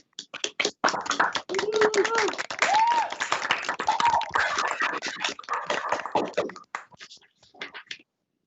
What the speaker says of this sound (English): Let's give Krystal a round of applause.